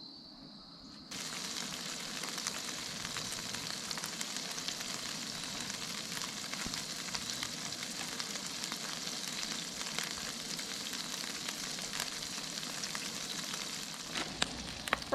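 Salted and peppered bison cheeseburger patties sizzle steadily on a camp stove at an outdoor truck campsite, a continuous close crackle and hiss with no talking.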